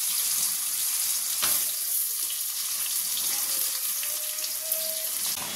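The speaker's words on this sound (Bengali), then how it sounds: "এতে আলু একটু ভেজে নেবো, আলু আর পেঁপেটা দিয়ে" Potatoes and papaya fry in oil in a pan, giving a steady, close, dense sizzling hiss that runs unbroken from start to finish with no one speaking.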